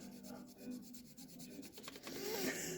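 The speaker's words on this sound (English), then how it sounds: "So you can do that and file a little there." A hand file rasps against the metal edge of a Dodge M2 truck's wheel well in quick repeated strokes, close by and quiet, with no talking.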